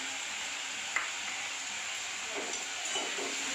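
Food stirred in a hot frying pan while cooking Bengali pabda fish at home, a soft steady sizzle with a sharp scrape near the start and a few faint clinks of the utensil.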